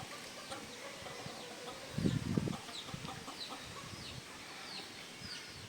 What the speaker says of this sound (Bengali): এটা দেখছেন মুরগির খামার এই সাইডে মুরগির খামার